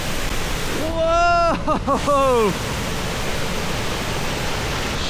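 The Cauldron Snout waterfall gives off a loud, constant broadband roar that runs through the whole stretch. Partway through, a person's short excited exclamation rises above it.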